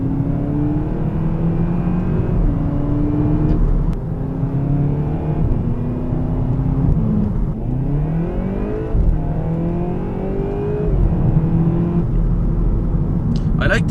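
Seat Leon Cupra 300 engine revving with a deep, throaty exhaust rumble, rising and falling through the gears, steady and close throughout.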